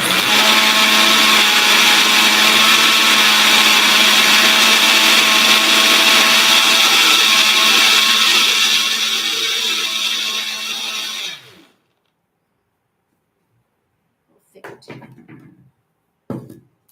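A blender grinds homemade cake premix ingredients for a red velvet cake, a loud steady whirring roar lasting about eleven seconds before cutting off, followed by a couple of faint brief clunks.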